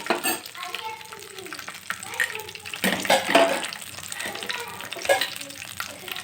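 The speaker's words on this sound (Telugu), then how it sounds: "ఒక ఒక ఐదారాన్ని జీడిపప్పు అయితే తీసుకోవాలి ఇలా వేయించుకోవాలండి" Cashew nuts frying in oil in a pan for an egg curry, a steady close sizzle with stirring and scraping rising and falling throughout.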